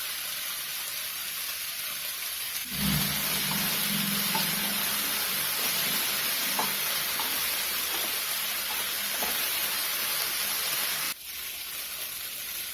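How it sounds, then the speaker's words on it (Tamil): Tomatoes with added salt sauté in a pan, giving a steady, fairly loud broadband sizzle that runs almost unchanged with occasional faint stirring ticks before cutting off abruptly near the end. "இப்போ தக்காளி நல்லா வதங்கிடுச்சு."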